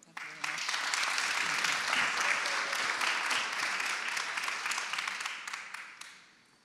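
An audience at a 2019 mental health address applauds to welcome Emanuela Del Re. The dense, steady clapping starts quickly, holds strong for several seconds, then thins and fades away.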